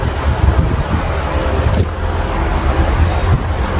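Electric fan converted from AC to DC power, blowing hard with a loud continuous rushing wind close to the microphone and no talk over it.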